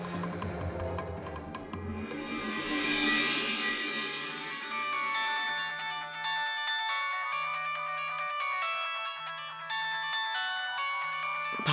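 A mobile phone ringtone for an incoming call plays loud and steady, a repeating melodic tune with music-like tones over a low pulsing pattern, continuing alone with no talk.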